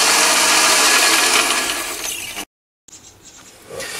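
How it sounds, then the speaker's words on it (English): A 10mm drill bores into a workpiece turning on a Chinese mini lathe. A loud, steady whirring grind cuts out abruptly, then softer machine noise returns. "I'm using a 10mm drill to drill down just past the, or beyond the saw cut depth"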